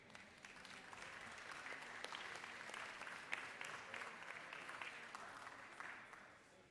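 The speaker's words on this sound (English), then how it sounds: "Let's give them a round of applause." Applause for the Athens Roadrunners from the gallery of the Georgia House of Representatives chamber, a steady burst of many hands clapping that carries evenly through the large room.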